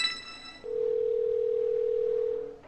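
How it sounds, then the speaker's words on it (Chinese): A phone dial tone on a mobile call: a single steady tone starts abruptly after a short burst of background sound and holds loud and unbroken for about two seconds, then cuts off. "手机打电话"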